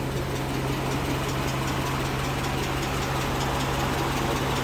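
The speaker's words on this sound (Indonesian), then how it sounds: "Meskipun nggak halus-halus banget untuk suara mesinnya, tapi ini masih normal." A used car's engine idles just after starting, a steady, slightly rough hum with a constant low drone and faint knocking, close and continuous without talk.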